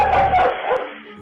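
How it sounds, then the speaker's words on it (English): A little white dog barks at thieves, a single sharp yappy bark trailing into a short whine, heard close and alone. "that little white dog had other plans, and he barked louder than their courage"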